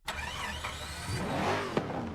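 A car engine from a Minecraft Bedrock car mod starts and revs up, a steady mid-pitched game engine drone that climbs in pitch, with a brief click near the end and no talk.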